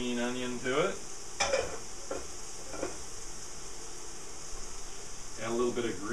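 An egg dropped into a hot pan sizzles with a steady bright hiss, heard close, while a person talks over it at the start and end, with light utensil clinks.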